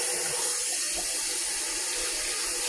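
Hot water pours from a kitchen tap in a steady, close, hissing stream that runs without a break throughout.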